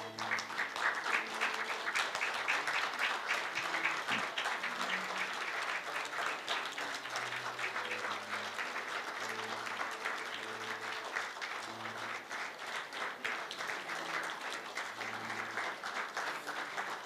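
Standing audience at a Korea University honorary doctorate ceremony applauds steadily as dignitaries and the university president enter behind the school flag, with continuous dense clapping filling the hall throughout.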